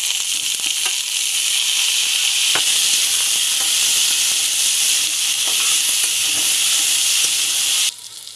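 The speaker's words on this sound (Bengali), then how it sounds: "এখন আমি কাঁচকলা দিয়ে দেবো।" Raw green bananas go into a wok where potatoes are already sizzling in oil; a loud, even hiss runs throughout with a few small clicks and pops, then cuts off sharply near the end.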